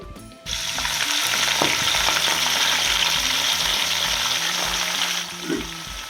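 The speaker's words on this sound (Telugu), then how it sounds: "ఇప్పుడు అదే ఆయిల్లో ఈ పాలకూరను కూడా వేసి వేయించేసుకుందామండి" Spinach fries in hot oil in a pan with a loud, continuous close sizzle and occasional stirring clinks, no talk over it.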